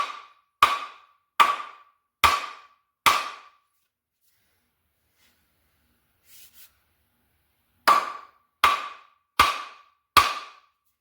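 A block of wood strikes the end of an axe handle to seat the head: five sharp, evenly spaced knocks, a pause, then five more, loud and close with quick decay and no talking.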